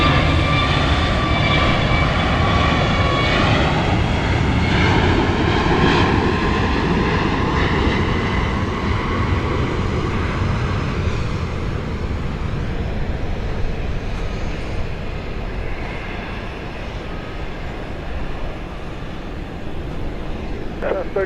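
Boeing 737-800 arriving at Dallas Love Field from Las Vegas, a loud, steady jet engine roar that holds strong for the whole stretch and only slightly eases toward the end, with no talk over it.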